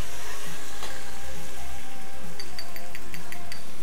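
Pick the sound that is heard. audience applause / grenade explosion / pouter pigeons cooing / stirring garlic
stirring garlic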